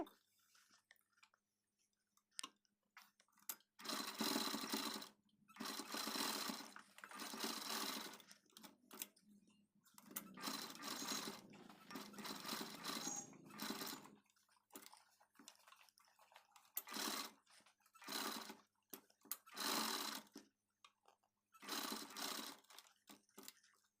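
A sewing machine stitches the border onto a blouse neckline in close, rapid whirring bursts of several seconds each, separated by short quiet pauses and small handling sounds.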